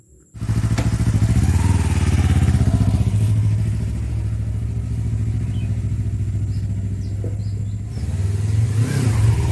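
A motorcycle fired up on test after a disc brake overhaul starts close by and holds a loud, steady putting engine note with slight revving and mechanical clatter, and no voices.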